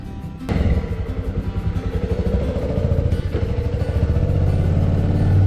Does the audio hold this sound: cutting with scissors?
no